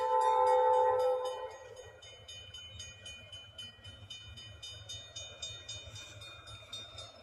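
Albany Eastern Railroad excursion train with a diesel engine rolling past, a brief horn-like tone at the start giving way to a low rumbling drone and rhythmic wheel clatter at moderate distance.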